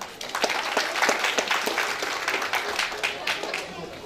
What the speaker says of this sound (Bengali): আমরা আরেকটু জোরে করতালি ছড়াই।